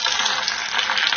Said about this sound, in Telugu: పోపు వేగింది, స్టవ్ ఆపేద్దాం.